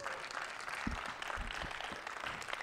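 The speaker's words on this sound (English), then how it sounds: "Clap your hands" Audience clapping at a grad student comedy show, a steady wash of applause from a crowd with a few louder claps standing out near the start and middle, fairly even in loudness throughout.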